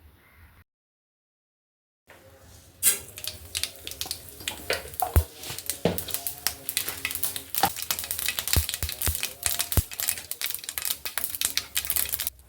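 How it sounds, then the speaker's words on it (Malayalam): Mustard seeds splutter in hot oil in a pan, a dense run of sharp pops and crackles that keeps going after a brief silence at the start. "എണ്ണ ചൂടായതിന് ശേഷം കുറച്ച് കടുകിട്ട് പൊട്ടിക്കാം."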